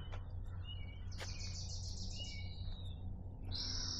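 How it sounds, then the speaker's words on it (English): Several wild birds call outdoors, including a crow, a robin, a Wilson's warbler, a western wood pewee and a spotted towhee. Faint, high chirps and short whistled phrases come in a few bursts over a low steady background hum. "we got a crow, we got a robin,"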